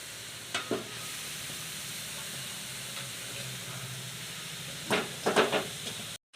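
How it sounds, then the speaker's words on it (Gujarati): Grated carrot for gajar halwa fries in hot ghee in a large tin pot, a soft steady sizzle broken by a few louder scraping stirs near the start and a cluster near the end. "ઘી ગરમ થઈ જાય એટલે આ ખમણેલું ગાજર છે એ ઘીમાં એડ કરી દેવાનું"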